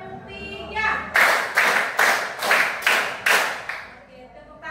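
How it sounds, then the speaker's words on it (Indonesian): A classroom of pupils claps out a rhythmic ice-breaker pattern, six loud, evenly spaced bursts of clapping in a row, with children's voices around them. "tepuk 1, tepuk 2, tepuk 3, 2 kali tepuk 3"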